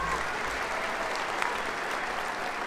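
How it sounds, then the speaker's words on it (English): An audience at the Miss Indian World pageant during the Gathering of Nations powwow in Albuquerque breaks into steady, dense applause for the judges, a continuous wash of clapping throughout the short clip. "So let's give all of our judges a big round of applause for all their hard work."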